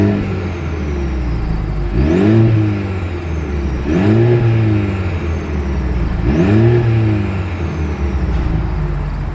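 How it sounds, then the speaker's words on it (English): A 2026 Mercedes-Benz GLC 300 SUV's exhaust roars as the engine is revved three times, each rise and fall spaced a couple of seconds apart over a low idle rumble. "As always, here is that exhaust clip."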